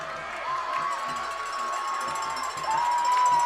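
Crowd at a Summertown high school football game, roused by the home sideline, keeps up a steady roar of cheering and whooping with shouts and a faint rattle of noisemakers, swelling louder near the end.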